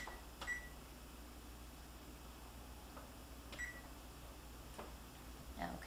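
An oven control panel is set to preheat to 400 degrees, giving several short, quiet electronic beeps spaced a few seconds apart over a faint steady room hum, with no talking.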